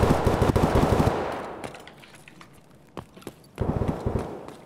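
Rapid automatic gunfire in the video game Escape From Tarkov rattles in two dense bursts, near and loud, with a few scattered single shots in the quieter gap between them.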